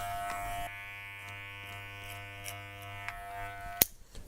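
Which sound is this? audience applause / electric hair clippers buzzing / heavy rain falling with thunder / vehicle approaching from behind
electric hair clippers buzzing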